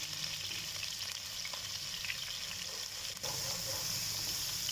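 A medium onion frying in oil in a pan as it starts to brown, giving a steady, even sizzle with a faint crackle, close up and moderately quiet with no voices.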